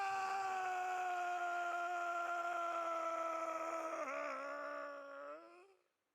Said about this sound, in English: God, what a scream!